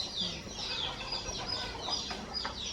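Free-range village hens cluck on a farm that also keeps dairy cows, with steady overlapping calls against a busy, noisy background.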